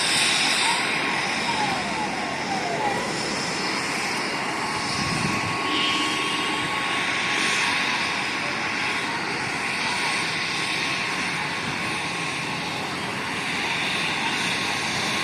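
A loud, steady helicopter engine roar with a high turbine whine as it starts up after a political meeting in Jaggampeta, holding at an even level throughout with no pauses.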